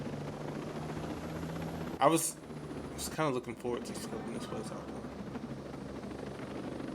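A helicopter in Ghost Recon Breakpoint hums as a steady low rotor drone throughout, with someone talking briefly over it partway through and a few sharp game clicks.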